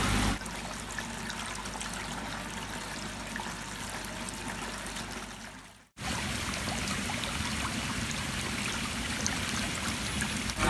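Water gushes steadily into a fish pond filter chamber from a bottom drain, a loud continuous rushing flow that drops out briefly near the middle and then resumes at full strength.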